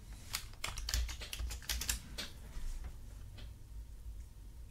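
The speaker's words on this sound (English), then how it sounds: "I'm just going to type draft" Typing on a computer keyboard at close range, a quick burst of clicky keystrokes in the first couple of seconds, then a few scattered taps fading out.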